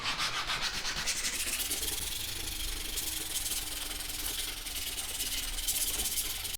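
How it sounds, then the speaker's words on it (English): Abrasive sanding of a leather edge, a continuous raspy back-and-forth rubbing that stays close and fairly loud throughout, with no talk. "I've always just sanded back and forth and burnished back and forth"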